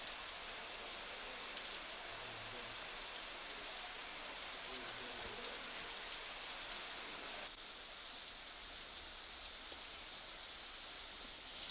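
Steady, continuous monsoon downpour over Maharashtra during flooding along the Krishna river, a soft, even wash of rain with no breaks and faint, distant background murmur.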